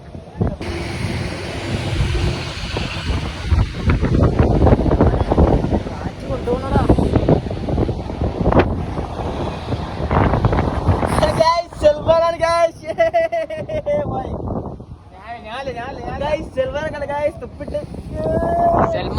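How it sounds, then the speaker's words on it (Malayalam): Cold night wind on a mountain pass on the way to Chembra Peak in Wayanad, gusting and buffeting the microphone with loud rumbles while people talk and laugh over it throughout. "നല്ല തണുത്ത കാറ്റില്ലേ"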